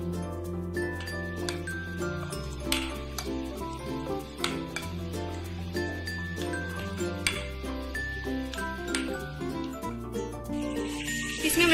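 Chicken marinade with red chili, salt and black pepper is mixed in a bowl, giving light, repeated clinks and taps of a utensil against the dish over steady background music.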